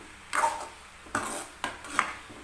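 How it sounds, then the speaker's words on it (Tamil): Pumpkin stir-fry stirred in a pan: three or four brief scraping clinks of a spoon against the pan, spaced apart over a soft background, fairly quiet and close, with no talking. "இப்படி ஒரு ரெண்டு மூணு டைமு எடுத்து எடுத்து கிளறி விட்ருங்க அடியில்"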